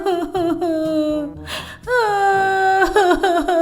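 A girl crying in a cartoon story, wailing and sobbing in loud, tonal cries with a short broken gasp in the middle before the crying swells again.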